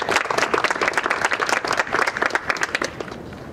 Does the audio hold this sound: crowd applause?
yes